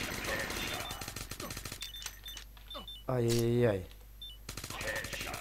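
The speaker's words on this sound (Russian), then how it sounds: "Так, пулемет, пулемет, вызываем пулемет." Rapid machine-gun fire from the stickman shooter game Stickman and Gun 2 rattles in bursts at the start and end, while a voice cries out loudly over the middle.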